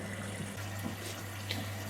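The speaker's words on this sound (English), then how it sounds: "what the machine now does is while it's filling, it will continue going this way until it is full of water" Philco PA207 washing machine filling with water, a soft steady hiss of inflow over a low constant hum, faint and continuous throughout.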